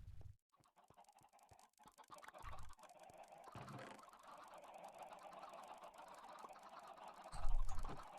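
Minecraft chickens clucking softly, several short bird calls repeating over a quiet game background, with a louder thump near the end.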